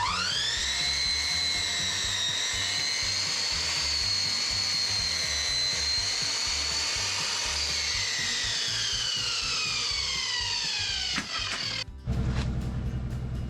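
A power tool cuts wooden shelf boards to length for open shelving in an upcycled tiny house kitchen, a loud, steady high-pitched whine running for about eleven seconds, then sliding down in pitch as the cut ends, with a brief clatter afterward.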